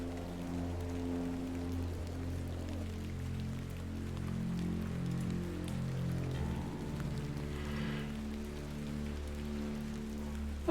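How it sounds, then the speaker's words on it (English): Video game rain patters steadily in a moody night scene by an inn, layered over low sustained music tones, with no speech. "now we're getting double rain sounds"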